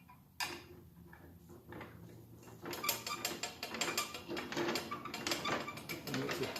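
A 1/4 inch Allen key turns a roughly 2 inch hex head cap screw during a Craftsman 10 inch band saw reconditioning. It makes irregular close ticks and metallic clicks with small scraping sounds, quiet and with no speech.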